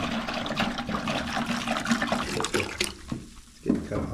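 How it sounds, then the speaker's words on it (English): Distilled white vinegar splashes and gurgles steadily into a 5-gallon bucket for a few seconds, then trails off into brief drips and a final slosh. "Then we're gonna take some vinegar. This is distilled white vinegar, and we got 3 gallons of it. We're gonna put it in a 5-gallon bucket."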